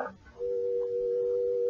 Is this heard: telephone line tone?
yes